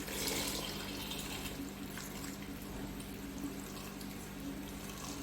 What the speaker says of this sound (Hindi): इसी में मैं डालूंगी तकरीबन 2 गिलास पानी।